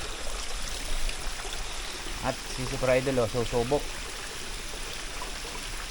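Steady broadband rush of river water at San Pablo runs throughout, with someone speaking over it midway.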